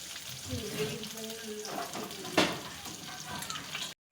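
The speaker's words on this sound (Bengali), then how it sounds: "মাছ ভাজা করলাম" Soft sizzle of fish frying in a pan with a brief sharp clatter midway; faint background sounds throughout, ending abruptly.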